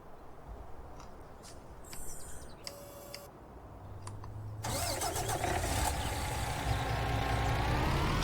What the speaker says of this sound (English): Let me move this truck out of the way.